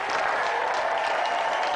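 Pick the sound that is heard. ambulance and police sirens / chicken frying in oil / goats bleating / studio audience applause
studio audience applause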